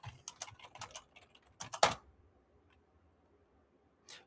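A terminal command is typed on a computer keyboard as a quick burst of close, light key clicks in uneven clusters, ending in one firmer keystroke, then near silence and a single faint click.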